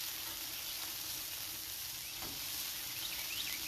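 Thin smashburger patties sizzling on a hot griddle, throwing up grease in a constant, close hiss with faint crackles and spits popping through.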